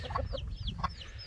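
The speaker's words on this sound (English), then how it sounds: "So we got them baby chickens." A hen clucks on an Oklahoma farm in spring, giving a quick series of short, close clucks and squawks in under two seconds.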